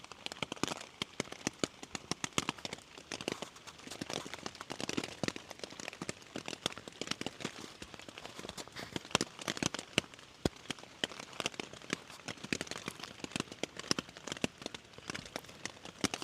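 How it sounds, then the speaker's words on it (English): Rain patters steadily on a tent during a solar bike tour on Saaremaa, Estonia, a dense, even crackle of close drops continuing throughout with no voices. "I'm still in my tent at 1 p.m. because it's raining."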